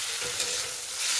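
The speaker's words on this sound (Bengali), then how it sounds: "জিরে আর তেজপাতা ফোড়নে দিয়ে দিলাম।" Cumin seeds and bay leaves sizzle in hot oil as a tempering in a home kitchen, giving a bright, steady hiss up close with a faint stir.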